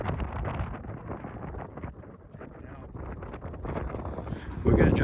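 Gusty wind buffets a boat anchored among moored sailboats in Bimini Basin, rumbling and rushing over the microphone in uneven surges that grow louder toward the end.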